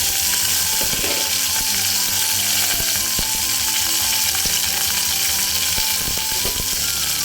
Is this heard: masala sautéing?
yes